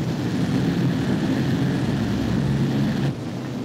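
A B-17 bomber in flight gives a steady, loud propeller-engine drone with a deep rumbling hum that suddenly drops in level near the end.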